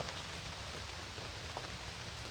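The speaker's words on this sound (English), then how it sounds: "It's raining." Rain falling in the woods, a steady, dense hiss of drops across the canopy and ground, continuous and even throughout with no voices.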